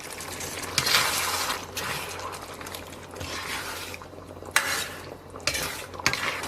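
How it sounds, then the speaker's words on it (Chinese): Eggplant stir-fried in a wok with garlic and oil as a prepared sauce goes in, giving repeated scraping and clattering of a spatula against the pan over a steady sizzle, in bursts with short pauses. "把茄子下到锅中，然后把提前准备好的料汁儿"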